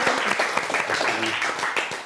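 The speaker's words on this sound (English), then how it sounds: "let's give a round of applause to Blak Twang and Tony Rotton" A crowd at a Newcastle hip-hop event applauds a British hip-hop act, dense loud clapping close and sustained through the whole short stretch, with some voices mixed in.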